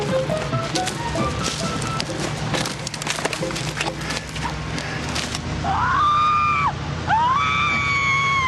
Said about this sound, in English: Listen to those screams.